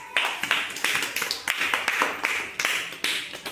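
A class of young children claps together in quick, loud bursts of bright slaps, several rounds in a row close by, with a faint voice in the background.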